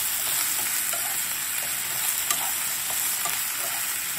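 Torn mushrooms stir-frying with lemongrass in a hot pan for vegetarian noodle soup, a loud, constant sizzle with faint scrapes of stirring, close up and without speech.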